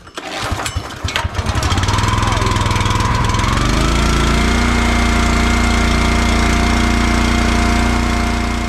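Champion 34-ton log splitter's small gas engine being cranked, catching after a few seconds and settling into a loud, steady, close idle with a rapid chugging drone.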